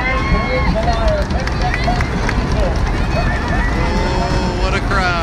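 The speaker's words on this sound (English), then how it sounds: "Oh, what a crowd." A crowd at the High River race during Guy Weadick Days makes a steady, loud babble of cheering and noise, with running hoofbeats and a commentator talking over it.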